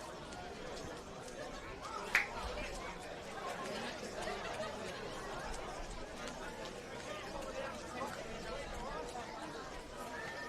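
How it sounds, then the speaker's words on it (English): A large crowd at a Ramsay Park football match between Playford City and Para Hills Knights keeps up a steady murmur of distant chatter, with a brief sharp shout near the start and occasional laughter. "Certainly a big crowd here at Ramsay Park"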